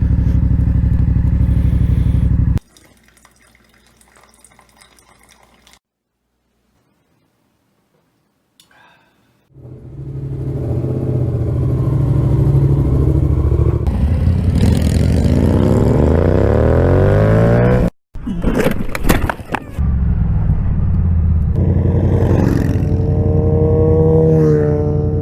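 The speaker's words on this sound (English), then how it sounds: "He wears them because my bike's loud." A loud motorcycle engine runs close by in a long steady roar. It is cut off for a moment partway through and resumes at full strength, after a quieter stretch near the start.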